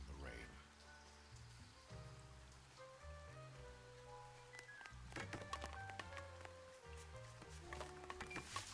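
Rain in a video game patters as a soft, steady hiss beneath a melodic music score, faint and continuous throughout.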